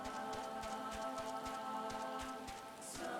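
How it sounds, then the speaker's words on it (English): Rain falling in Final Fantasy XIV's Stormblood setting, a steady hiss of drops on surfaces with soft regular ticking, continuous and even at a moderate level over a faint tonal background. "Oh, it's raining now."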